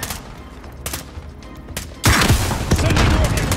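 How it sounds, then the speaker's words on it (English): Gunfire in Call of Duty Modern Warfare Warzone, a few sharp shots, then a loud, dense burst of rapid automatic fire with booming impacts. "Receiving hostile fire"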